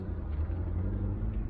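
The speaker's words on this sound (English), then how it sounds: "If you could hear that burbling away in the Ferrari in the background, it was a Ferrari." A Ferrari engine burbles at idle in the background, a steady low rumble that holds evenly throughout without pause, with no voices heard over it.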